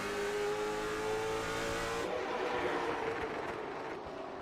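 Late model stock cars race at Langley Speedway, engines roaring loud and continuous with a rising, revving drone that shifts pitch as the pack passes close by.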